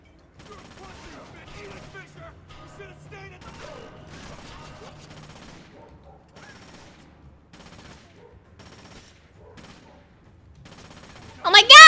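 Video game gunfire crackles in rapid bursts under a person talking throughout, ending in a sudden loud blast of shots.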